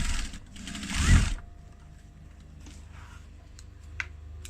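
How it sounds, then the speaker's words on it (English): An industrial sewing machine runs in a quick, loud burst as it stitches across a clutch wallet, then stops, leaving quiet room noise with a few faint clicks. "So back to where I was, sewing across that."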